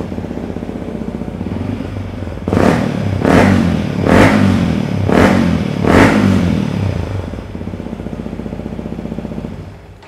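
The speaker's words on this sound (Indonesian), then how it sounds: "Oke, kita dengarkan suaranya bosku" A Yamaha WRF155 supermoto fitted with a Pro Speed TX Series exhaust idles, then is revved five times in a regular rhythm, each blip loud and close, before settling back to idle.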